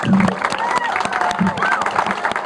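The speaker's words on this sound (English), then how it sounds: "round of applause for these amazing artists" An audience at a Cats on Main ceremony in a downtown setting gives a round of applause for artists, a dense clatter of clapping mixed with talk and a few cheers.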